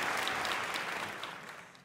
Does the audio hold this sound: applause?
yes